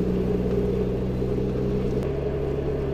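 A 430 hp Toyota MR2 SW20 sports car engine idles with a steady, low, close rumble, then its tone dips slightly partway through.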